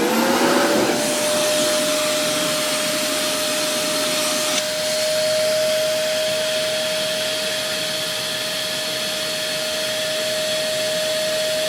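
Dyson Simplicity vacuum cleaner motor hooked up and running, spinning up to a loud steady high whine that holds constant without a break.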